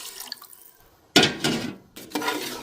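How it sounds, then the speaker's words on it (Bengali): Water is poured into a pan of fried rice for pulao, with two short splashing bursts and a sizzle following a quiet moment of light clinks. "চাল ভাজা হয়ে গেছে, এখন এর মধ্যে দিয়ে দিচ্ছি পরিমাণ মতো পানি"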